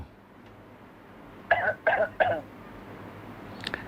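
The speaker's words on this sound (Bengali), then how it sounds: "একটু জোরে কাশি দেন" Three short, sharp coughs in quick succession from a patient at a doctor's consultation, close and fairly loud, against a quiet room with a faint low hum.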